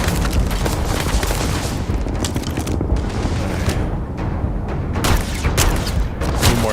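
Dense, rapid pistol gunfire in a shooter video game, loud overlapping shots and booms crowding the whole stretch with almost no pause.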